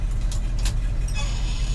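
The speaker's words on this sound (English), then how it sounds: "Going to shift through the gears." Chevy C60 truck with its engine running, a low rumbling idle that stays steady throughout, with a few faint clicks and rattles above it.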